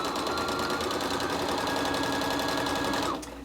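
A sewing machine runs a continuous fast stitch on a long fabric strip for a piped purse handle, a close, steady mechanical whir that cuts off abruptly near the end.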